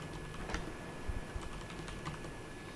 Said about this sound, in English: I'm typing, so not me.